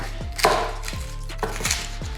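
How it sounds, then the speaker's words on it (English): A knife chopping garlic on a cutting board, a handful of crisp close thuds at an even pace, alone. "we're just gonna cut some garlic with this"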